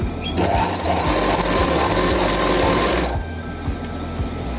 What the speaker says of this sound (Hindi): सिलाई सीधी निकालना है, बिल्कुल पक्का करके सिलाई उसी के साथ साथ सीधी एक एक पैर की सिलाई